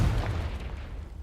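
Confringo blasting spell from Hogwarts Legacy going off: a single short, deep explosive boom that decays quickly into a low rumble, heard alone.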